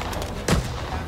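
A single loud shotgun blast in the Rising Storm 2: Vietnam video game, one sharp booming shot over steady background battle noise.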